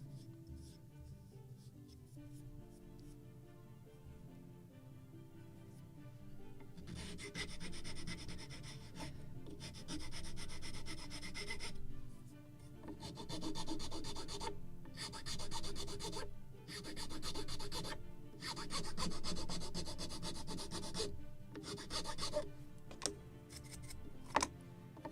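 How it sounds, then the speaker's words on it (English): Wooden parts of a Model Shipways kit of the 1776 gunboat Philadelphia get sanded by hand, with quiet bursts of rasping strokes that start and stop in an irregular rhythm, close up and alone. "A little more sanding"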